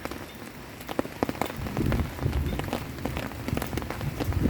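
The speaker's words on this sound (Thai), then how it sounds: "ฝนตกแรงมากนะคะ แรงมากฝนตกแห้งแห้ง" Heavy rain pours steadily onto a surface, a dense hiss with scattered sharper drops and splashes, close and continuous.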